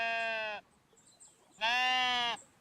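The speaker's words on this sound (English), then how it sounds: "the further out you're zoomed out, the further the sheep are gonna sound" Two sustained sheep bleats from a video game set around shipwrecks and pirate coves, each close, loud and lasting well under a second, separated by a quiet gap with no talking.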